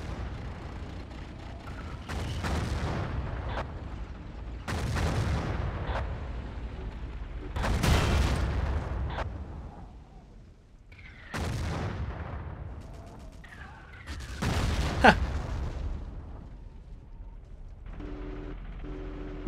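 Heavy tank cannon fire from a Battlefield 1942 armor battle between Panzers, several deep booming shots spaced a few seconds apart, each with a rumbling tail, plus a sharp crack near the end.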